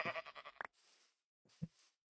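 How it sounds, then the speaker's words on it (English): A sheep in a video game gives a short, faint bleat, then a second brief bleat after a pause, heard alone and close. "That's another sheep."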